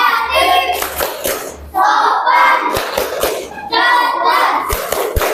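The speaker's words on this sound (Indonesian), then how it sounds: "Tepuk kelas 5." A primary school class of fifth graders performs a rhythmic clapping chant, bursts of children's shouted chanting alternating with sharp, loud group claps in a patterned beat, close by in a classroom.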